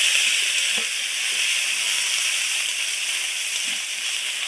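Fish curry with garlic and mustard paste fries in hot oil, giving a steady, loud, bright sizzle and hiss that holds evenly throughout, close by, with faint knocks underneath and no talking.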